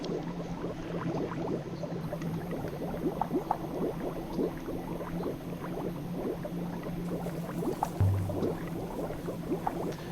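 Water rushing and gurgling beneath a hatch in the video game Heaven's Vault, a continuous churning bubbling wash at moderate level with a low thump near the end.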